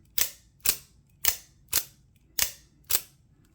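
Knife blade repeatedly flicked open and snapped shut, six sharp clicks at a steady rhythm about every half second, close and crisp with no talking.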